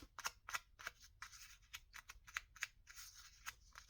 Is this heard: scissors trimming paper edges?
yes